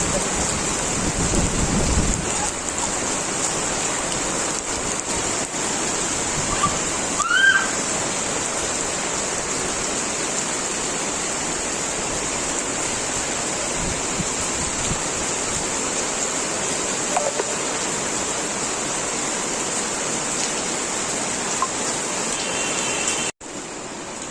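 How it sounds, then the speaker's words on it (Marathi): Steady heavy unseasonal rain in a windstorm roars without a break, a dense broadband hiss with occasional gusty swells, loud and close throughout. "वादळी खूप जोरात सुटलाय ना, पावसाचा जोर खूपच वाढला."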